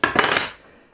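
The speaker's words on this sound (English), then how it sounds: "Open-ended down the back of the blade till you find the bite. closed end at the front one here, pretty tight" Spanners bite on the arbor nut of a Dewalt DWE7485 table saw, giving a few sharp metallic clinks and clanks in quick succession before the sound rings away into quiet.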